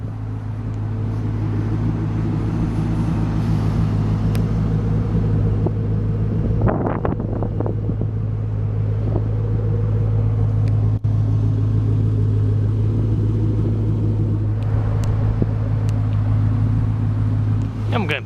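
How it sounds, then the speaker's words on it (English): A 2000 Chevrolet Camaro SS with a 5.7 liter V8 and custom dual exhaust idles with a steady, deep low rumble throughout, close by, with a few brief clicks and movement noises over it. "Does have a custom dual exhaust."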